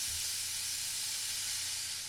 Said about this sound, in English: I mean, just listen to that sizzle.